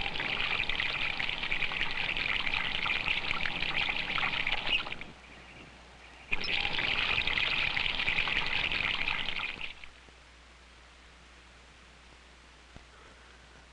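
Water pours and trickles steadily onto a turning water wheel, a loud continuous rush that breaks off, resumes, then stops, leaving near silence.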